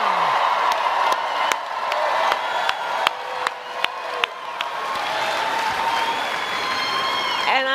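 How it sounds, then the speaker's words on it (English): Audience applauding former First Lady Michelle Obama at a political event: a dense wave of clapping with cheers and whoops, sharp camera-like clicks scattered through, sustained at full strength throughout. "Can we please applaud my dear and incredible friend, the former First Lady, Michelle Obama."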